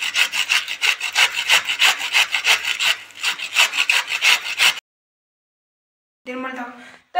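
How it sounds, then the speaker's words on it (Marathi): Cabbage being grated finely for veg kofta, a close, steady rhythm of rasping strokes that stops abruptly, followed by silence and a brief burst of talk. "कोफ्त्यासाठी पत्तागोबी काट करून घेणार आहोत"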